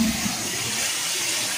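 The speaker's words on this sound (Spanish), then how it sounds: "esta es la parte de arriba de la cascada" Water rushes steadily at the top of a waterfall in Guachochi, Chihuahua, as a close, continuous broadband wash without pauses.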